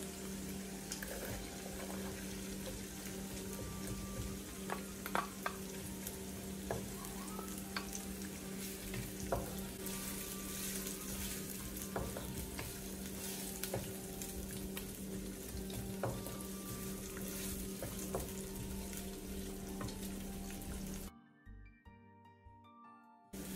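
Chopped onions fry steadily in oil for a mixed vegetable sabzi, a close, even sizzle and crackle with occasional stirring clicks, running on until it cuts out near the end.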